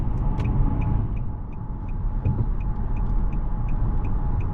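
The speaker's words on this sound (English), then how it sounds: "The CVT is not the most pleasant sounding sound." Steady low drone of a 2023 Nissan Maxima SR's continuously variable transmission under engine rumble during an evening drive, with a faint high whine and evenly spaced soft ticks throughout.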